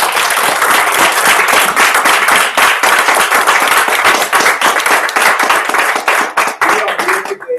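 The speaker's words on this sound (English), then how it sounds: "today, I think we should give a round of applause to these kids" Loud, dense applause and clapping from a crowd honoring children at a makerspace ribbon cutting, sustained steadily and close for several seconds with no talk over it.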